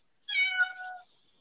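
A pet cat gives a single close, clear meow lasting under a second, in an otherwise quiet room with no talking.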